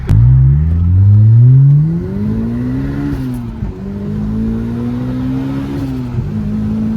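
A turbocharged Honda S2000 engine, built to about 340 horsepower, revs hard on a dyno, climbing steadily in pitch before holding a loud, sustained high-rpm drone close by.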